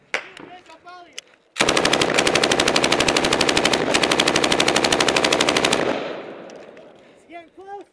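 Sustained automatic gunfire during a firefight in Afghanistan, a dense rapid burst lasting several seconds at close range, bracketed by shouting voices before and after.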